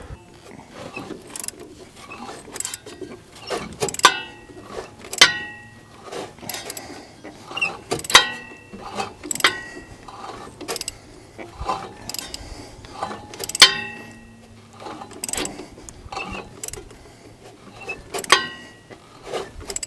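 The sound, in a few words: ratchet turning over 1950 Buick Special engine by hand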